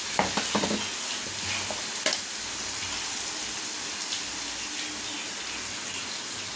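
Steady sizzling and frying of chicken in a pan with a few sharp stirring clinks near the start, continuous and close.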